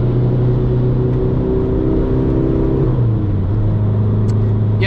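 An underpowered car is driven flat out on the Nürburgring. Its engine drones loud and close without a break, and the pitch drops near the middle as it shifts gear before holding steady again.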